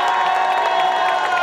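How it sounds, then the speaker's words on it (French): Crowd at a costume contest at a geek convention cheering and applauding together, a dense, loud, steady wash of claps and shouts with scattered whoops. "applaudissez-vous vous-même."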